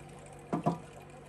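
Two quick drops of water plop into an aquarium during drip acclimation of Neocaridina Blue Dream shrimp, close and soft against a quiet room hum.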